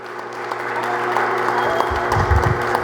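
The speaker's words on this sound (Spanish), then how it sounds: "Pues la vamos a recibir con un aplauso con todo cariño." An audience in a hall in Durango applauds to welcome a guest at a cultural storytelling event, a steady, dense clapping that holds throughout and swells slightly toward the end.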